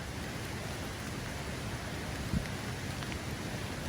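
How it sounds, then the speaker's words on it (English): Steady rain pours down in a dense, even hiss, close and continuous, with no voices over it, at an overnight wilderness campsite. "Still raining on us."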